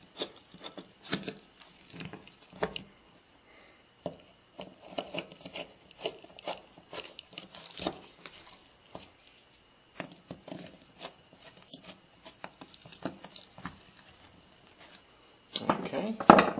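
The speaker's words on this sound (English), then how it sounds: "we can run them in the rest of the way with the screwdriver" A screwdriver turning carburetor screws, giving a run of small metallic clicks, scrapes and ratcheting taps close by, with brief pauses and a louder clatter at the end.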